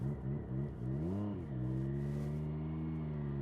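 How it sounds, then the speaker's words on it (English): A 2025 Triumph Street Triple 765 R motorcycle engine revs and accelerates up close, with a few quick throttle blips rising and falling, then a steady climbing tone as it pulls away. "Love the way the engine responds on the pickup."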